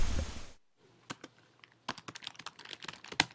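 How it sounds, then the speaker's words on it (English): Computer keyboard typing, a short run of quick, irregular key clicks, close and fairly quiet, following a brief burst of noise at the start. "When I type the word plagiarism into YouTube, this is what I get."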